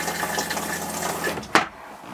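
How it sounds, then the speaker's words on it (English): A toilet flushes in an Airstream Caravel travel trailer during winterizing, a steady rushing wash of water for about a second and a half, then a sharp close clunk as it ends. "we can go ahead and flush our commode, making sure that that is also changing color"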